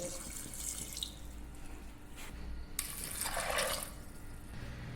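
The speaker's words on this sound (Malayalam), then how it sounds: "കുറച്ച് വെള്ളം ഒഴിക്കുന്നുണ്ട്" Water running from a tap onto washed green peas for a masala, a steady soft splashing stream that swells briefly toward the end; fairly quiet, no talk.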